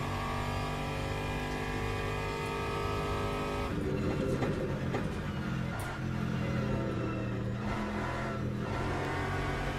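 A GT3 race car engine in the racing sim Le Mans Ultimate drones steadily up close, its pitch shifting as it accelerates and lifts, with a constant loud, even tone throughout.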